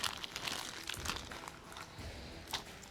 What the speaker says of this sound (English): we're gonna get this flipped over, cut open, and out of this package